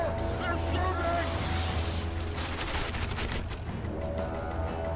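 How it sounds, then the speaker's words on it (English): Gunfire rattles through a battle in the video game The Witcher 2: Assassins of Kings, forming a dense, continuous barrage of shots and booms that stays loud for the whole stretch. "Take cover! They're shooting!"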